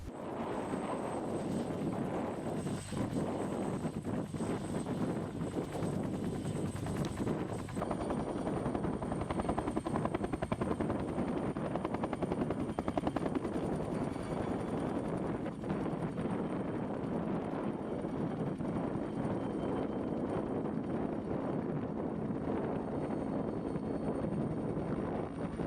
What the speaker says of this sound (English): As the last helicopter flight departs, leaving the team alone on the glacier